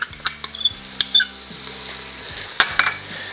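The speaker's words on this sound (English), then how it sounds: "We're gonna add in some garlic." Garlic is added to onions and carrots already cooking in a pot for an elk stew, giving a steady close sizzle broken by several sharp clinks of a utensil against the pot, with no talking.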